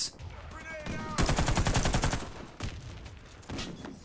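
Rapid automatic gunfire in the Xbox One shooter Warface during a team deathmatch, a loud sustained burst of closely spaced shots near the middle with shorter scattered shots before and after.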